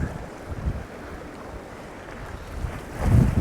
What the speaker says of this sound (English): Wind's picked up obviously because the tide's running.